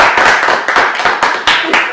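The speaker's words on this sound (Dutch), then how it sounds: "Wil je daar ook applaus voor?" Scattered handclaps and light applause from a small group at a Dutch comedy-style chat, with a few uneven bursts of clapping over about two seconds and some voices mixed in.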